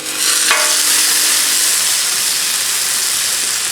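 Steak sizzling on a Blackstone flat top griddle, a loud, steady, bright hiss of searing meat that holds constant throughout, with a brief crackle near the start.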